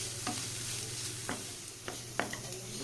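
Onion, green chili, ginger and garlic sauté in a pan with a continuous sizzle, broken by a few sharp spatula scrapes as they are stirred, close up and alone.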